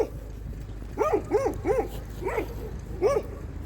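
Stray dogs on a roadside in the Balkans bark five times in a loose, evenly spaced series at moderate distance, each bark a short, rising-and-falling yelp over a low background rumble, with no one talking.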